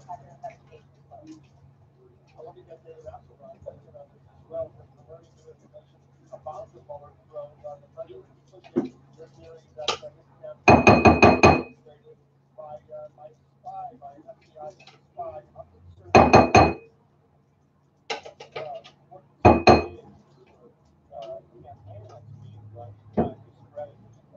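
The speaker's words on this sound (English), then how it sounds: "I guess I better take the blade out first. And then I'll use my spatula." A food processor blade is lifted out and a spatula scrapes hummus from the bowl, making a few loud clattering bursts of clinks and knocks amid quieter handling noises while someone talks.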